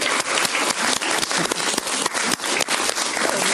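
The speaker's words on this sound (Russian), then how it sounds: "аплодисменты нашим участникам" Sustained audience applause at a lecture-concert in the Nikitinka hall, dense steady clapping filling the whole stretch, loud and close with brief dips, no talking.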